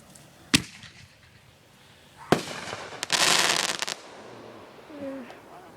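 Fourth of July fireworks and firecrackers go off nearby in a 2013 celebration: two sharp single bangs, then a burst of crackling lasting about a second, with faint voices in the background.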